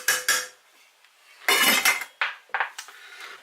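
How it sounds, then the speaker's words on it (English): A metal lid clatters onto a pot of simmering German-style red cabbage with apple, several sharp close clanks and rattles as it settles. "And now once it's boiling, just cover that with a tight lid"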